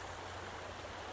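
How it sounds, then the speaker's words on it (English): A summer stream flows steadily outdoors, a constant, even rush of water that fills the short moment without any break or other sound. "oh, I hear the water flowing"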